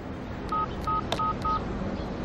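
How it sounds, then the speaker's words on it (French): A mobile phone ringtone made of four short, even electronic beeps, spaced evenly apart and sounding clearly over a faint background hum. "Écoute, tu devrais changer cette sonnerie."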